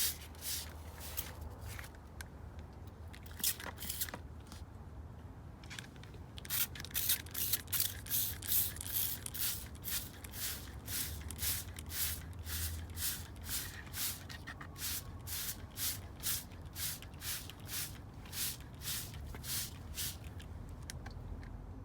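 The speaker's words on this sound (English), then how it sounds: "So we're gonna spray it now with our insecticide." Quiet, repeated short bursts of a spray bottle misting homemade insecticide onto plant leaves, in an irregular rhythm over faint rustling, no talking.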